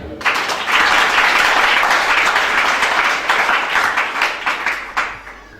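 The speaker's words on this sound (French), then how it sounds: "Acclamez." A church congregation breaks into loud, sustained applause that fills the room evenly, then thins into scattered claps toward the end.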